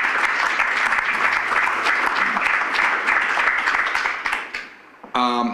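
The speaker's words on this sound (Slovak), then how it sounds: "Tak poprosím krátky potlesk pre našich 4 hostí." Audience applauding four guests at a live Slovak event on the ECB's monetary policy; steady, dense clapping fills the room for about five seconds, then thins and dies away, with a brief voice right at the end.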